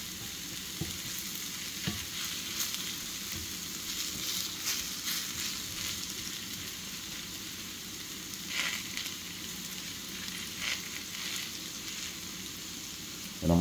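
A flat sheet of shredded potatoes for hash browns fries in a pan, giving a continuous, even crackling sizzle like light rain, steady throughout with occasional brief louder pops and no talking.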